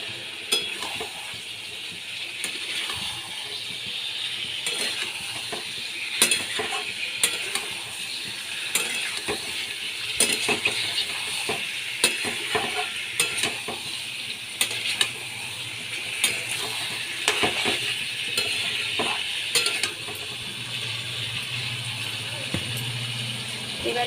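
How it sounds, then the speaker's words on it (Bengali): Potatoes being stir-fried in a pan for aloo dum, with a steady moderate sizzle and frequent rattling scrapes of a spatula against the pan, close and continuous. "আলুগুলো দিয়ে আমি ভালো করে কষিয়ে নেব।"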